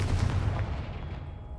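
A single heavy blast from the Confringo fire spell in Hogwarts Legacy hits with a booming, low rumbling impact that quickly fades into a decaying roar.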